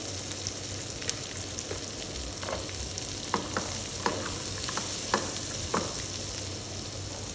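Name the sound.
frying ingredients for butter chicken in a pan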